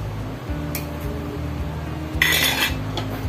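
A metal lid clatters onto a cooking pot of shrimp sinigang with guava, with a couple of clinking metallic knocks against a steady background hum.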